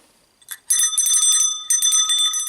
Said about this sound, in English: is a bell.